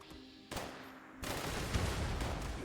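A thrown grenade is shot in the video game Fallout 76, setting off a sudden burst of gunfire and explosive blasts that jump in loudness twice and then roll on as a dense, rumbling barrage.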